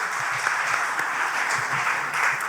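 Audience at a large family reunion convention clapping: a dense, steady round of applause from many hands at moderate distance, holding evenly throughout.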